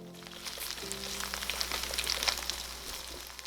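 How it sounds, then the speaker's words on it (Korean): Burdock batter sizzling in a pan of sesame and cooking oil over medium-low heat, a steady close crackle and spatter with no talking. "참기름 한 스푼 넣고 중약불로 달궈지면 반죽을 떠서 넣고 손바닥 크기 정도로 붙여준다"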